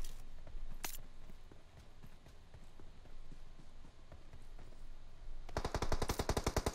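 Rapid automatic gunfire from a PUBG Mobile match, scattered shots early on, then a fast, loud burst of evenly spaced rounds in the final second.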